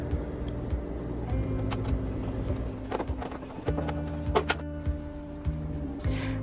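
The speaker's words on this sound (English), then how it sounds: "So I have to remove those 4 screws." Power screwdriver whirring in short bursts as four screws holding up an old mirror cabinet are backed out, with motor tones rising and stopping, and clicks and taps between.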